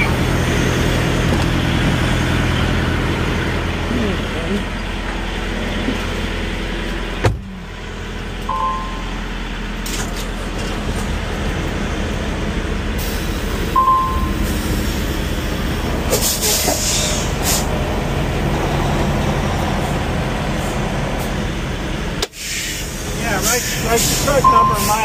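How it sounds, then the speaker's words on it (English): A truck backs up with a rumbling engine, a couple of short reversing beeps and sharp air brake hisses and releases, while people talk nearby. "You can go ahead and back your truck"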